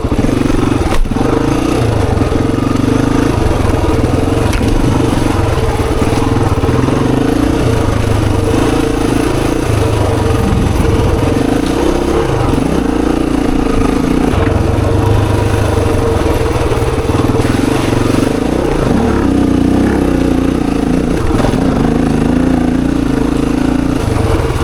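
A Honda XR dirt bike engine, a 250 or 400, runs steadily on a trail loop, loud and close throughout, with a continuous rough drone that rises and falls as the throttle is rolled on and off.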